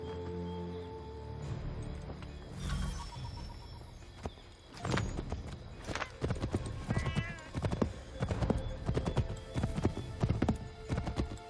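Horse hooves clip-clop at a steady gallop in Assassin's Creed III, with a whinny early on and faint background sounds, the hoofbeats growing louder and more rhythmic in the second half.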